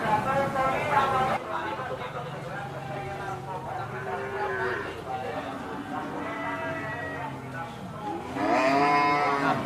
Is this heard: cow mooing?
yes